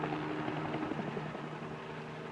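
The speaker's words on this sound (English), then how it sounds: "This helicopter is being used to spray trees with chemicals." A helicopter spraying chemicals over trees throbs with a steady rotor drone that is fairly faint and constant, heard through an old, noisy film soundtrack.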